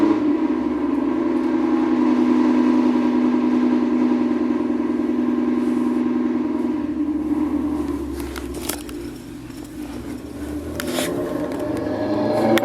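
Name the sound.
car engine starting and revving outside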